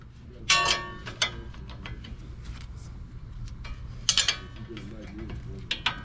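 A 13/16 wrench breaks loose the nut on an outer tie rod end of a 2010 Ford Explorer, giving close mechanical clicks and ratcheting ticks in scattered bursts, with a sharper clatter at the start and another near the end.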